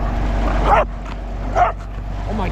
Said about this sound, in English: easy with the barking